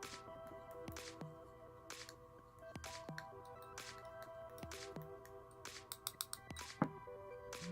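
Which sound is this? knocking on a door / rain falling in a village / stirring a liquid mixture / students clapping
stirring a liquid mixture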